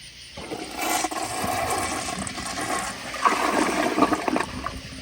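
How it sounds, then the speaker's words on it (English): A 1993 Crane Plumbing Hymont toilet flushes close up, with a steady rushing roar of water that swells partway through and then trickles as the bowl refills. "let me give you all one last flush"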